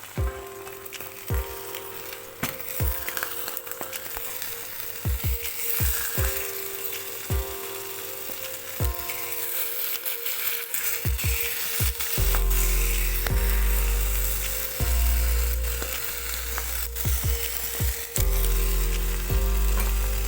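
Beaten egg frying in a hot pan for a Thai omelette wrapped around stir-fried basil pork, a steady loud sizzle with occasional knocks and scrapes of a utensil, close up.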